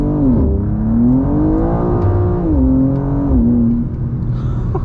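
A BMW M2 CS engine revs hard as the car accelerates sideways through a corner, its close, loud note rising and dipping with throttle changes in one continuous pull before easing off near the end.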